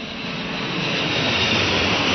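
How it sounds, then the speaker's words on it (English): A loud, steady jumbo jet engine roar with a rising high-pitched whine, building slightly in intensity, no voices. "heard a piercing whine of a jumbo jet making its way down"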